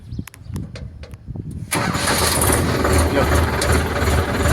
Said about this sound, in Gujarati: ટ્રેક્ટરનું સ્ટાર્ટિંગ એકદમ સ્મૂથ છે